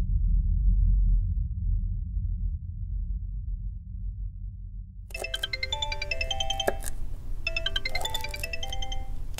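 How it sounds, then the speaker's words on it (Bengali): A phone rings in bright repeated electronic ringtone bursts, two clear ring cycles after a stretch of low rumble, loud and close with no talk. "3 বার রিং হলো।"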